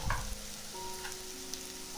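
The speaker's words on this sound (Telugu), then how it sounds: "అంతవరకు మనం 3 నిమిషాల పాటు ఫ్రై చేస్తున్నాం." Capsicum pieces fry in a pan with a steady close sizzle and crackle, with a brief louder stir at the start, and no voices.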